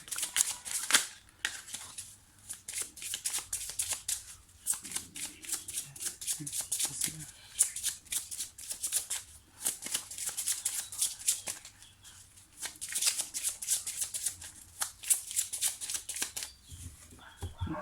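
Tarot cards being shuffled by hand in steady, repeated riffling bursts with short pauses, fairly close and crisp, while a voice speaks French over parts of it.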